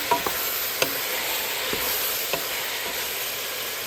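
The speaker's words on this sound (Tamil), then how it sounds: "தக்காளியும் வதக்கி கொள்கிறேன்." Tomatoes sauté in a hot pan with a steady soft sizzle, broken by a few light scrapes and taps of a stirring utensil.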